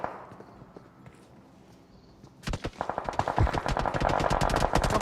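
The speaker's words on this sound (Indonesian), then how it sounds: "Kok gue ditembak dari belakang sih?" Rapid gunfire rattles in a PUBG Mobile match, a sudden burst of dense, loud shots beginning midway and continuing to the end after a quieter stretch.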